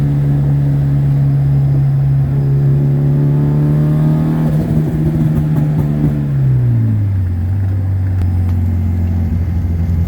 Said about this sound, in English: Third gear roll on.